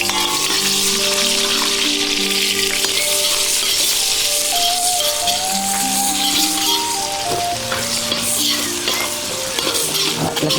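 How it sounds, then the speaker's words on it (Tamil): Green chili and ginger are frying in hot oil in a village outdoor cooking setting, giving a loud, dense, continuous sizzle with stirring scrapes and a faint melodic tone beneath. "இப்போ பச்சை மிளகா, இஞ்சியும் அரிசியா போட போகிறாங்க."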